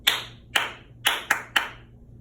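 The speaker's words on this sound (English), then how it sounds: "I'm going to clap." A teacher claps her hands sharply to call a class to attention: five crisp, loud claps, the first three evenly spaced about half a second apart, then two quicker ones, with a quiet room between them.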